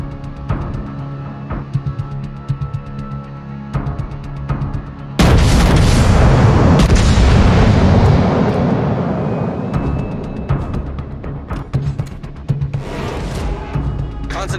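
A heavy boom of warship gunfire erupts midway through a naval battle video game and rolls into a long, loud, decaying rumble. Steady engine-like drone and scattered clicks run beneath it.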